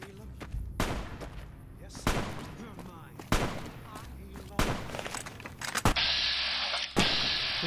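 Gunshots crack out in Fallout New Vegas, a string of loud, separate bursts spaced a second or so apart, with a steady hum and faint game noise filling the gaps between them.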